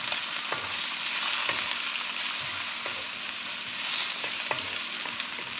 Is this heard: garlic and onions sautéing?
yes